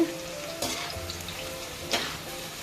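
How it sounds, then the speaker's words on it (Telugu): Cabbage pakodi fry in oil with a continuous crackling sizzle, marked by two short bursts of louder bubbling. "కొంచెంసేపు లైట్ బ్రౌన్ కలర్ వచ్చేలాగా వేయించుకుంటే చాలా బాగుంటుంది."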